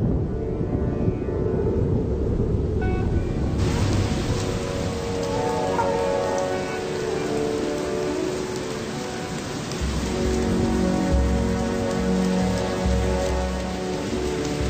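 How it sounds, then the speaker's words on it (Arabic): Heavy monsoon rain arriving in July from the Indian Ocean pours down in a dense, loud, continuous hiss of drops striking surfaces, with deeper rumbling swells partway through and no voices. "تموز يوليو والأمطار الموسمية وصلت بصورة جدية"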